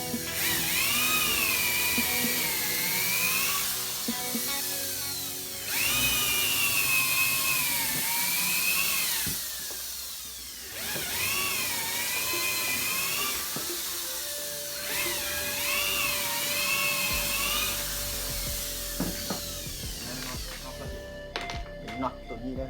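A power drill boring pilot holes into wood, with a high whine that rises and falls in several bursts, running loud and close while someone talks over it.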